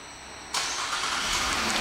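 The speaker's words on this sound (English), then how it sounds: "And the car starts right up." A 2013 Cadillac XTS sedan fires up by remote start: after a quiet pause its engine catches with a sudden loud burst and settles into a steady, close idle, with no voices.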